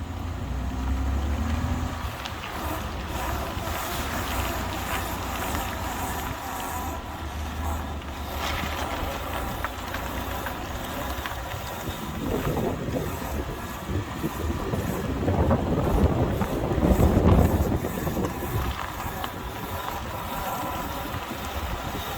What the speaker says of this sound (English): I'm driving this front wheel drive Ford Escape. Got this noise out front.